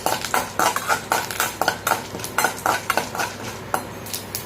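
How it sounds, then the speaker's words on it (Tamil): Irregular quick pops and crackles of mustard seeds spluttering in hot oil, close up, with a faint sizzle underneath. "நல்லா கடுகு பொரிஞ்சு வரட்டும்"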